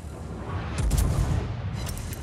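Rear turrets of the German super battleship Hannover (H-42) fire in World of Warships, a deep booming salvo that rolls and rumbles loudly for about a second over steady ambient rumble.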